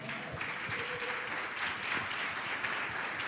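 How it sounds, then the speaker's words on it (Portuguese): A church congregation claps in a steady, dense round of applause that holds at an even level from start to finish, with a murmur of voices underneath. "Aplauda aí."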